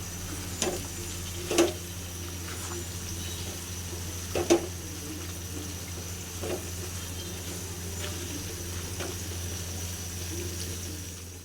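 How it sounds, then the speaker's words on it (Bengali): Steady low sizzle of pointed gourd frying in a pan, with occasional light clicks and taps of a utensil stirring, no voices. "আমার পটল ভাজা হচ্ছে"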